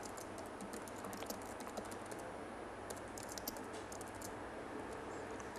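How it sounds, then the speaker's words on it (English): Code being typed on a computer keyboard, a close run of quick, light key clicks in uneven bursts with brief pauses, over a low steady room hum. "so I'll just type this out"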